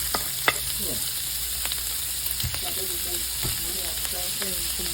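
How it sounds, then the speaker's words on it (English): Sausage browns in a hot pan with a constant bright sizzle and hiss, broken by occasional scrapes and knocks of a utensil against the pan, close and steady with no talking. "I'm gonna brown my sausage here"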